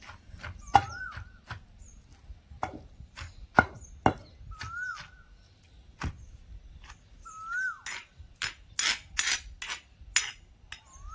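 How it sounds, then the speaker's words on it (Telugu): Cucumber and peanut chutney being coarsely pounded in a stone mortar, sharp isolated thuds at irregular intervals that speed into a quicker run of strikes near the end, with birds chirping in the background. "కొంచెం కందా బిందా తొక్కుతున్నాను నేను"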